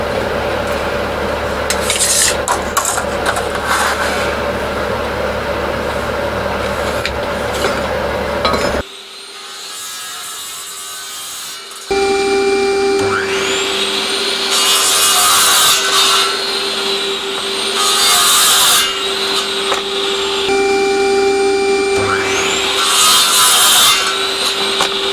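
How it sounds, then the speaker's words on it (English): A saw cuts through timber in a small workshop with a long run of harsh, rhythmic rasping strokes, broken by a short lull before the steady cutting resumes, close and loud. "So let's cut up the timber and see what we've got"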